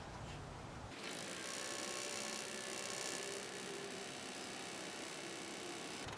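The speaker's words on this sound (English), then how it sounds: "we're going to pump gas up here into the filter and see if that gets full" Fuel pump on a 1964 Pontiac Le Mans pushing gas up into the fuel filter, a steady low mechanical hum and buzz that starts abruptly and runs on evenly, close and fairly quiet.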